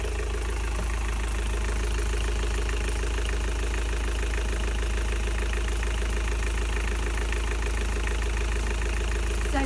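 A diesel engine idles steadily up close in the engine room of a 2010 Beneteau Oceanis 43 sailboat, a loud continuous low rumble with rapid mechanical ticking and clatter, unchanging throughout.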